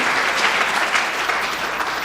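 Dense applause from a crowd gathered for the Innovate Fort Collins Challenge, steady and loud throughout with no voices rising above it.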